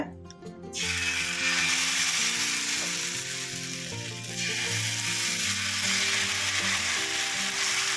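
Tapioca adai batter sizzles steadily on a hot dosa griddle over a low flame, a broad crackling hiss that begins abruptly and holds close and loud, with faint background music.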